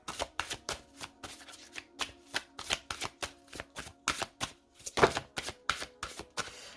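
A Lenormand card deck is cut and shuffled by hand, producing a rapid run of crisp, papery riffling taps in an uneven rhythm, close and moderately loud with no talking.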